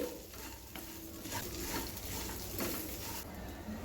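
Okra pieces and peanuts sizzle steadily in deep-frying oil while being stirred, a dense crackling hiss with soft scraping strokes throughout, close and continuous.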